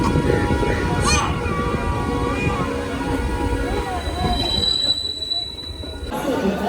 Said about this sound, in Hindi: जयपुर दिल्ली लाइन, दिल्ली जंक्शन पर अराइविंग करती हुई हमारी ट्रेन